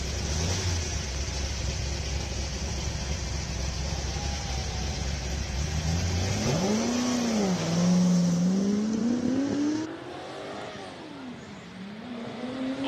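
Classic 5.7-litre Lola T70 race car engine at a Cape Town speed event, a loud rumbling drone that revs up and down in sweeping pitch changes as it passes, then drops off and fades.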